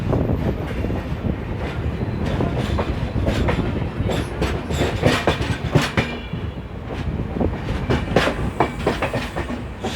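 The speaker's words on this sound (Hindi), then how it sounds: "हमारे सामने से कोई तो ट्रेन का अराइवल हो रहा है" A train rolls into the busy Vijayawada railway station, close and loud, with a steady rumble and repeated clickety-clack of wheels over rail joints across the whole stretch, with no talk.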